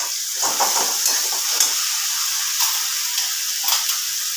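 Onion paste fries in a pan with a loud, steady hiss and sizzle, punctuated by occasional soft stirring scrapes, close and continuous.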